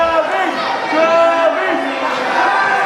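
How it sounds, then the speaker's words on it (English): Wrestling arena crowd at a Jubilee wrestling special cheering and chanting behind the British Champion, a loud sustained roar of many voices. "As you can hear, the crowd well and truly behind the British Champion."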